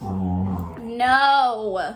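A dog gives a drawn-out, vocal whine and groan, rising in pitch, close by, with a person's voice over it.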